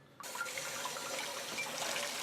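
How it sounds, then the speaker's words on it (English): Water gushes from the flush valve of a carbon filter on a GrowoniX GX1000 reverse-osmosis unit, a steady, quiet splashing flow that begins abruptly and runs on continuously. "the water now coming out is crystal clear"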